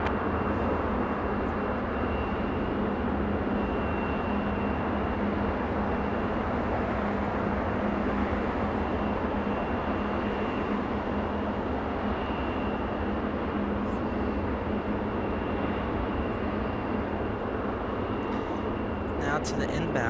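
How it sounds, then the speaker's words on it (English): An American Airlines flight arriving at Los Angeles International Airport, a steady broad jet engine roar holding at constant loudness for the whole stretch, with no clear rise or fade. "It's an American Airlines flight 2670 coming in from Fort Lauderdale."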